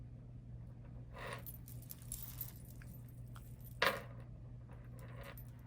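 A metal bracelet jangles against a desk in two brief clinking bursts, the second sharper, over a quiet steady hum in an indoor crafting setting.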